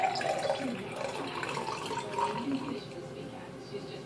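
Water poured from a container into a punch-like liquid for a magic trick, a steady splashing pour running continuously and fairly close, with faint voices in the background.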